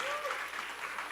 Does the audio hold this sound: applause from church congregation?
yes